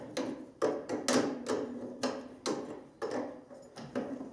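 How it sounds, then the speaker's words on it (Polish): Loosening the belt tensioner on a Schumacher drive on farm machinery, a series of about nine sharp metallic knocks or ratchet clicks at uneven intervals, close and fairly clear, no speech. "Teraz poluzowuję napinacz."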